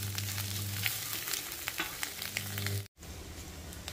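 Eggs frying in oil in a pan for egg fried rice, a steady close sizzle with faint crackles and a brief dropout near the end, with no voices.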